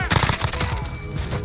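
Rapid bursts of MP5 submachine gun fire in Call of Duty: Modern Warfare, sharp repeated shots crackling close and loud over about a second and a half.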